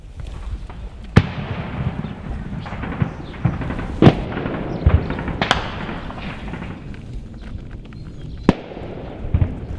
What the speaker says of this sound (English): The gunfire is still raging inside